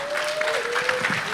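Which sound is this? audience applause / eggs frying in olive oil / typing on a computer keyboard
audience applause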